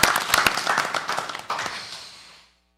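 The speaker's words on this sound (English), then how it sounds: "Let's give him a big round of applause." An audience at a Pico Rivera city council meeting claps for a third grader leading the flag salute: a short burst of dense applause that fades out within about two and a half seconds.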